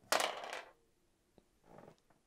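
Three dice tumbling in the board game Dungeon Saga, a bright rattling clatter onto a hard surface, then a single sharp click and a softer second rattle.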